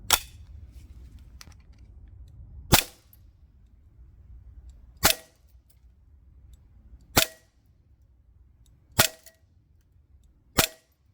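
Sig Sauer ProForce P320 X Carry green gas airsoft pistol firing 0.2 gram BBs at a range, six sharp, loud, evenly spaced cracks about two seconds apart over a low background rumble.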